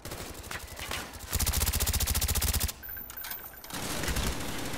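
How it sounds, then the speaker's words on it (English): Rapid automatic gunfire in a shooter video game, with dense repeated bursts of shots that come in long volleys with brief gaps, loud and close, with no voices. "I'm getting shot at by like 16 different directions."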